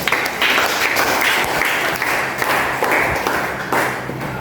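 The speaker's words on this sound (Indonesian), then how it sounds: "Kita beri aplaus dulu." A classroom audience applauds a group presentation in a mathematics lesson, with dense, steady clapping that runs the whole time with no talk over it.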